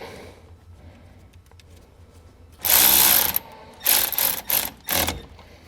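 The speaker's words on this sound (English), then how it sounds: "Connect our ring terminal. Be sure that your fuse is not in your fuse holder. And then reinstall the nut." A ratchet clicks in several short bursts as it tightens a nut onto a ring terminal of a trailer wiring harness on a 2015 Chevrolet, each burst crisp and close against a quiet background.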